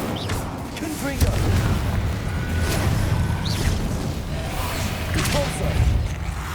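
Confringo fire blast spell from the Hogwarts Legacy video game, cast in combat: repeated booming blasts with whooshing bursts at roughly even intervals, loud over a dense battle din of game effects and in-game voices.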